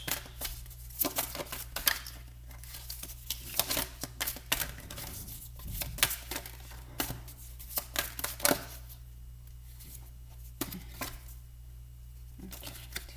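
Tarot cards shuffled by hand in a quiet room, a series of soft, quick riffling bursts that come in irregular clusters with short pauses between them, close and fairly faint.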